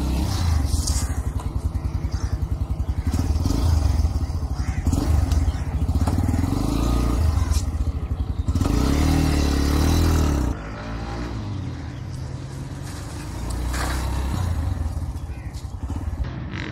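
Suzuki GD 110 motorcycle ridden at top speed, its engine droning loudly and steadily with rushing wind noise throughout, dipping briefly before rising again.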